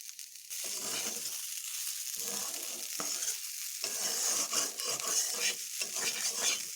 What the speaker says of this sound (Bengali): আমি আর কিছুক্ষণ ভেজে নেব